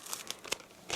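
A store-bought plastic piping bag for making churros being handled up close, with quiet, scattered crinkles and rustles and a slightly louder crackle at the end.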